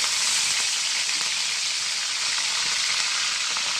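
Shrimp sizzle in hot oil in a frying pan with fried coconut, a steady loud hiss and crackle filling the whole stretch, with no voices.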